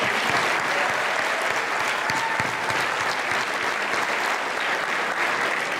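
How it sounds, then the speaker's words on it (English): A graduation crowd applauding its school administrators: dense, steady clapping from many people fills the space at an even, loud level throughout, with faint crowd murmur beneath. "let's hear a round of applause for all the administrators"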